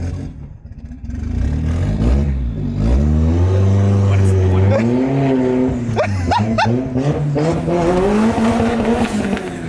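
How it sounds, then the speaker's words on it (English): A turbocharged Honda Civic doing a burnout, its engine revving hard and loud with tire squeal throughout, while people shout and talk over it close by. "Let's do some fucking burnouts already."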